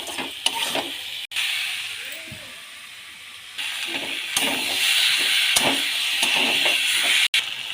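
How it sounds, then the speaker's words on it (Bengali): Potato and pointed gourd sauté in a pan with salt, turmeric, chilli powder and cumin powder, a steady sizzle and hiss with a few scraping stirs and clunks of a utensil against the pan. "এবার ভালো করে এটাকে কষে নেব।"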